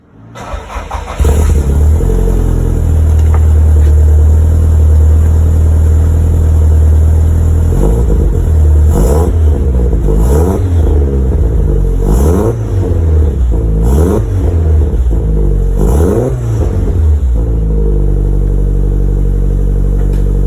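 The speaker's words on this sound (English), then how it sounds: "We're going to do a first start, check for leaks" A Toyota Celica GT4 ST185 with an HKS exhaust fires up for its first start, then idles loudly with a deep burble broken by several sharp revs that rise and fall before settling back to idle.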